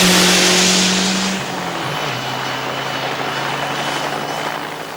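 A BMW and an Audi launch side by side in a timed drag race. Loud engines roar at high revs, then fade into a steady, more distant drone as the cars pull away.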